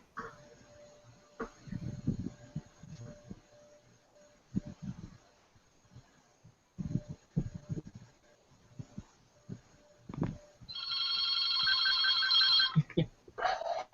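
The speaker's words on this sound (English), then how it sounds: "Somebody has a phone call." A telephone bell rings in a burst of steady trilling near the end, loud and clear over a quiet room with scattered soft movement and faint background noise.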